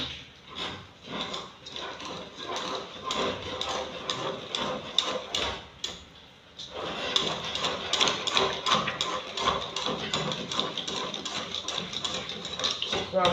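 Flour, salt and chilled water being mixed into a batter for spring roll sheets: a close, steady run of quick rhythmic tapping and clicking from a utensil working against the bowl, broken by a brief pause midway.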